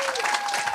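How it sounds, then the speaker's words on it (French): A conference audience in Paris breaks into brief, steady applause, a dense wash of clapping from many hands. "On l'applaudit, bien sûr."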